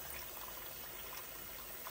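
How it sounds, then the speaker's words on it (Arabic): Water pouring into a container, a steady, even rush of liquid filling it, continuous and moderately close with no talking over it. "املى ميه"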